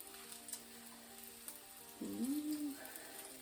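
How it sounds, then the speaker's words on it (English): Salmon steaks frying in a pan give a soft, steady sizzle that runs throughout, with a brief louder tonal swell in the middle. "Got my salmon all ready to fry, so I'm going to go ahead and start frying them."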